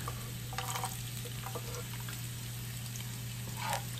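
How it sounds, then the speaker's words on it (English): Garlic and onion sautéing in oil in a pan for a stir-fried side dish, a steady soft sizzle running throughout with brief stirring clatters. "Now saute the garlic and onion."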